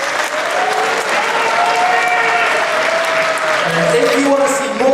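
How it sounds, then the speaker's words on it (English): A crowd at the DreamHack Winter 2010 StarCraft 2 grand final applauds and cheers loudly and continuously, with whoops and shouts rising over dense clapping. "please make some noise for Naama!"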